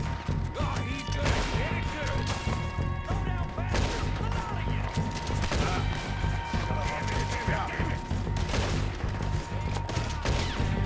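Gunfire in Red Dead Redemption 2, a dense, continuous stretch of shots and clatter lasting about eleven seconds with no clear break, layered over game music and ambient noise.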